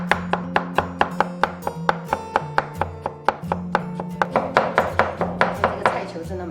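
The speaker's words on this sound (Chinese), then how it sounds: "削皮过后对半切开，然后切薄片， 然后再切成丝。" A knife chops peeled kohlrabi into thin shreds on a cutting board, giving quick, crisp, evenly spaced knocks that run fast and close, with a short pause partway through.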